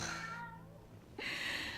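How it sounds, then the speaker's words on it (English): A cat meows in the video game Forspoken, a short close call over steady game ambience and music, with a brief sharp onset partway through. "Oh my god, it's the cat again!"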